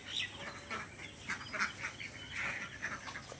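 Geese calling on a duck farm: a string of short, honking calls repeated at close range over a steady outdoor hiss, with no talk.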